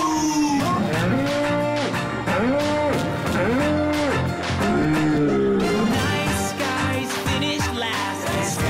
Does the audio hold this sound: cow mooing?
yes